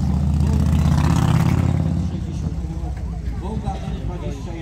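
A classic car at a vintage vehicle meet roars loudly nearby for about two seconds, then settles to a rougher, quieter running rumble while people talk close by.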